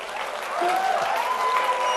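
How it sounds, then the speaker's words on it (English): A convention audience at a hospitality industry event breaks into steady applause that swells and holds, with a faint tonal whistle or squeal running through it. "a huge round of applause for him"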